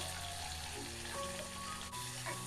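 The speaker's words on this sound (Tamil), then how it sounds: "குடமிளகா லைட்டாக எண்ணெயில் வதங்கட்டும்" Capsicum sautéing in oil for vatha kuzhambu, a faint, even sizzle over a low steady background hum, with brief light clinks and no talking.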